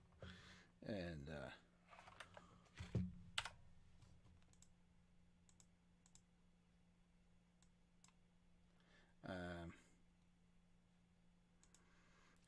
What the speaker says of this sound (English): I hit a button there, sorry.